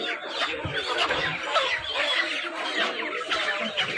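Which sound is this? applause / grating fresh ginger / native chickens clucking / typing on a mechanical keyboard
native chickens clucking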